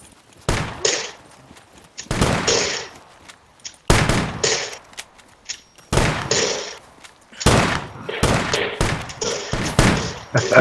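Repeated shotgun blasts in a video game, about seven loud booming shots in irregular bursts over ten seconds, each with a sharp attack and a short decaying tail, with no talking.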